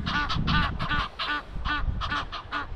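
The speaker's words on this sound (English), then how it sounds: "Little duckies." Ducks call in a quick run of nasal honking quacks, several birds close by in short bursts with brief gaps between them.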